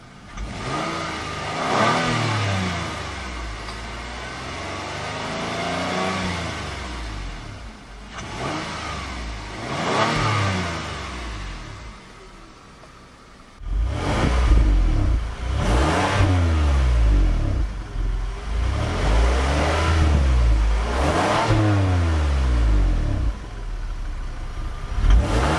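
A 2012 Kia Sorento SX AWD's smooth V6 revs repeatedly, rising and falling in several strong pulls from idle, with louder, deeper revs in the second half and no talking.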